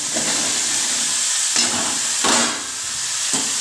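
Vegetables and chopped greens go into hot spiced oil for a shaker chorchori, raising a loud, steady sizzle with several bursts of stirring scrapes, close and without speech.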